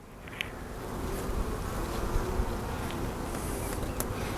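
Honeybees work over a brood frame pulled from an overwintered Layens hive, giving a steady, fairly quiet buzzing drone throughout with a few brief louder wing flicks close by.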